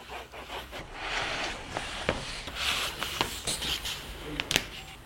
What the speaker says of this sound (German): Das Falzbein ist ein traditionelles Werkzeug aus dem Buchbinderhandwerk.